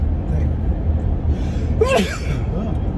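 A single sharp sneeze bursts out about two seconds in, against a low background hum.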